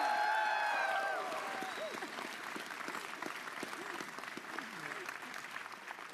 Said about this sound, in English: That deserves a louder applause.